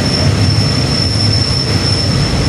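Rapid train 133 arriving at Nong Khai station gives a loud, steady, high-pitched wheel squeal that runs unbroken over heavy rumbling rail noise.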